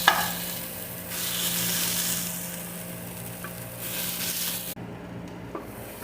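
Carrots, onions and raisins are sautéed in a pan as a topping for bukhari rice. A continuous sizzle swells and fades with stirring, with a soft tap at the start and a steady hum underneath before the sound cuts abruptly near the end.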